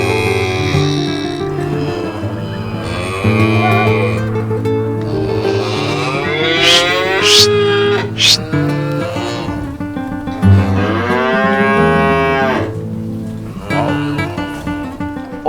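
A herd of cattle belonging to Banyankole herders in Africa moos loudly and close by, with long overlapping lowing calls from several animals that continue almost without a break.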